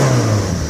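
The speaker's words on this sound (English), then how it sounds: "Rev it up, the turbo comes in lovely," Turbocharged car engine revving close by, a steady loud mid-range engine drone with a strong low hum, sustained and slowly easing through the short moment, with no talk over it.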